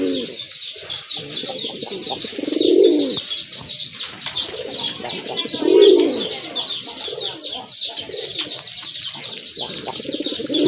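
Gola pigeons coo in deep, rounded bursts every few seconds close by, over a continuous bright chatter of other birds in the background.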